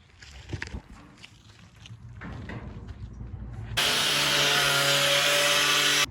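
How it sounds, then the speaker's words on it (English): A power saw cuts out a piece for a fortified backyard fortress: scattered bumps and handling noise give way to a sudden loud, steady high whine that runs to the end. "I'm getting ready to start cutting out the next one."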